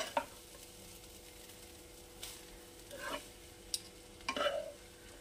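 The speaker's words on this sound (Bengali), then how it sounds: "দিয়ে আবার হালকা হাতে নাড়িয়ে দেব।" Mixed fried rice being stirred in a pan, faint scattered scrapes and clinks with a few brief sizzling bursts over a quiet background.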